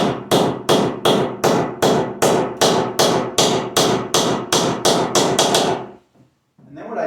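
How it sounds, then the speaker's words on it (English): A staple gun fires sharp, loud percussive hits fastening electrical wire to wooden studs, a fast, even series of about fifteen strikes, then stops abruptly, with a brief murmur afterward. "So I'm going to go ahead and staple this one to the walls here."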